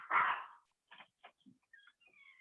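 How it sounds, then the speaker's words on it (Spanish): Dogs give a loud bark followed by a few short yips and thin high whimpers, nearby and in brief bursts separated by quiet. "Sí, tus perros."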